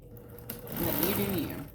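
Sewing machine stitching through the corner of a scrappy patchwork bag with an uninterfaced batik cotton lining, a steady close whirring run of stitches lasting about a second under low background noise.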